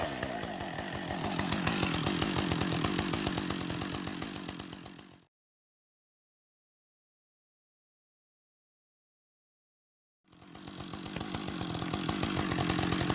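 A Husqvarna 562 chainsaw engine runs steadily as it warms up and idles, a loud, close buzzing drone that cuts out completely for about five seconds and then resumes at the same level.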